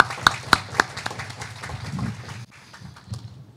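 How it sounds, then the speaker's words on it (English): A crowd at an outdoor 250th anniversary ceremony of the Fairfax Resolves in historic Alexandria applauds the mayor, with a few sharp nearby claps standing out before the clapping thins and fades. "how about another round of applause for the Mayor of Alexandria?"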